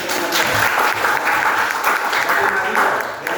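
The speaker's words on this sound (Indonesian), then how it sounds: "dia tepuk tangan." In a high school religion class, people clap their hands in loud, steady applause lasting several seconds, with some voice mixed in.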